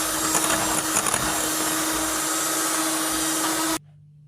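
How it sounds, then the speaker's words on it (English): An electric beater whirs steadily through eggs for a plain cake batter, a loud continuous motor whine with a fixed hum that stops abruptly near the end. "I'm going to use electric beater for the eggs"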